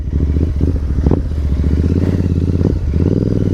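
Deep, steady exhaust rumble from a 650 twin motorcycle fitted with a Red Rooster exhaust, ridden in the rain, loud and close throughout, with brief rises in revs partway through.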